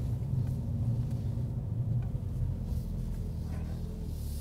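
Mercedes-AMG A-Class compact car engine heard from inside the cabin, a steady low rumbling drone that holds at an even level throughout with no talking.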